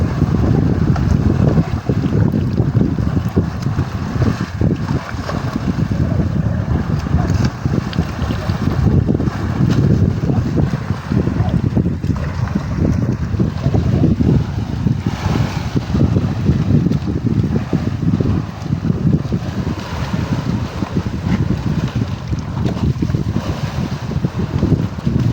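Strong wind roars across the microphone aboard a fishing boat on choppy sea, with waves slapping the hull in a constant heavy rumble that never lets up.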